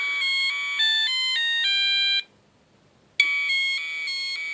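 A familiar melodic ringtone played through an Arduino-driven PWM audio amplifier, loud and clear as a run of stepped electronic tones, then a one-second gap of silence before the tune resumes.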